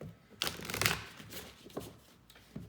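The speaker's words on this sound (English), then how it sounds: "I'm going to cut the deck 3 times with my left hand" A tarot deck shuffled by hand, two quick riffling bursts of card flutter at close range, fairly faint, no voices.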